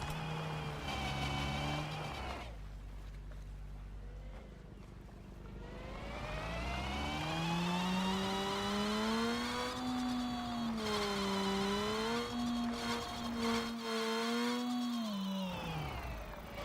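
Racing car combustion engines in Screw Drivers rev and accelerate, a continuous loud whine climbing and sliding in pitch with gear-like shifts and brief dips, sustained throughout.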